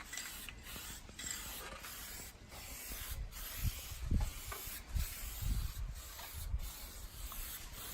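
A spray gun applies a top coat to a Nissan Patrol fender with oxidized paint, a faint airy hiss in repeated short bursts with soft low thumps between them, and no talk.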